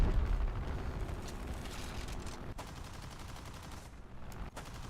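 Video game gunfire as a steady, dense stream of shots at moderate level, continuous through the stretch with a couple of brief gaps.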